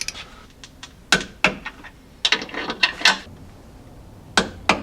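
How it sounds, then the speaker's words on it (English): Power-pole mounting bolts tightened to about 40 foot-pounds with a torque wrench, giving several sharp close ratcheting clicks in short bursts separated by quiet pauses. "we're going to torque them down"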